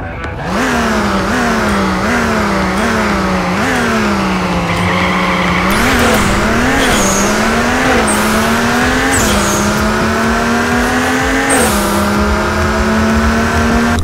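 Audi race car engine in the Nitronation racing game, revving loud and close with repeated rising and falling pitch sweeps as it shifts through gears, a continuous throaty drone with brief tire squeal, no talking.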